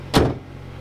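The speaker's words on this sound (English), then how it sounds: "Put the bonnet support down." Bonnet support rod lowered on a 1992 Toyota Supra Twin Turbo R JZA70: one short, close clack, over in a fraction of a second, followed by quiet.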